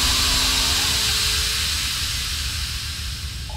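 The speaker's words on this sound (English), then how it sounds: "Stupid Steam!" Steam hissing in a sewer in the video game Outlast, a loud sustained airy hiss with a low rumble beneath that slowly eases off.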